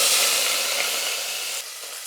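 Small onions and curry leaves sauté in a hot pan for rice and lentil dish, giving a loud, close, continuous sizzle and hiss that eases slightly toward the end.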